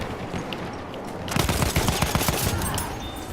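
Automatic fire from the SMG Factory in the game Battlefield 1, a rapid rattling string of close, loud shots that kicks in after a quieter lead-in and keeps going to the end.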